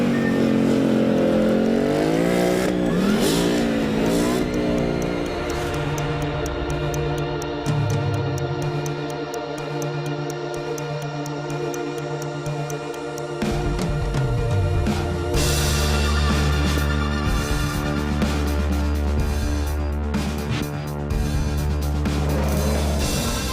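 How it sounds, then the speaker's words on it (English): A V8 engine in an American muscle car revs hard in Detroit, with loud, sustained roaring and rising and falling pitch sweeps that continue without a break. "It was built by the rumble of a V8, and it should rumble to that sound once more."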